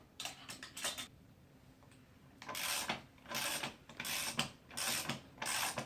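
A hand ratchet turns in repeated bursts of rapid clicking while a BMW 645ci rear strut assembly is bolted down. The clicking is close, crisp and fairly quiet, with short pauses between strokes.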